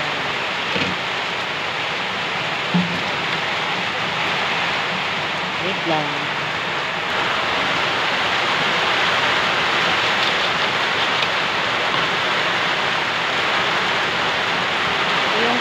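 Heavy afternoon rain pours in a continuous loud hiss, with someone speaking briefly near the start and a few faint knocks under the downpour.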